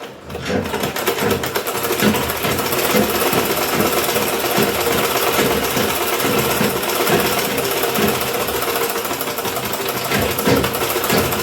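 A sewing machine runs continuously at a steady rapid rhythm, loud and close, its dense mechanical clatter holding constant throughout.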